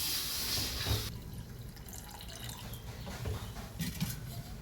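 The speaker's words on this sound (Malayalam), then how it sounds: "അപ്പോൾ പുളിവെള്ളം ഒഴിച്ചാണ്" Tamarind water is poured into a pan with a splashing gush at first, then softer trickles and drips follow, with faint clinks of the pan nearby.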